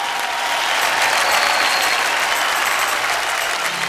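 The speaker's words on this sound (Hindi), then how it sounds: "जोरदार तालियां हो जाए" A crowd applauds loudly and steadily, welcoming a famous Lucknow qawwali troupe onto the stage with dholak and harmonium, a dense wash of clapping that holds throughout.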